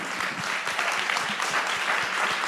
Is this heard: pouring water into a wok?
no